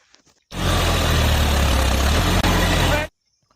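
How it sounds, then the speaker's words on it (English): A toy John Deere tractor plays a steady, loud electronic engine rumble for about two and a half seconds, with a brief dropout near the end, then stops abruptly. "this is a John Deere tractor"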